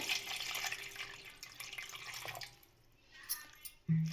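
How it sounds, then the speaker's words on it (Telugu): Half a litre of water poured into a cooking pot, a soft running splash for about two and a half seconds, then quiet drips and a light clink of the vessel. "గిన్నె తీసుకొని అందులో ఒక హాఫ్ లీటర్ వాటర్ అయితే పోసుకుంటున్నాను"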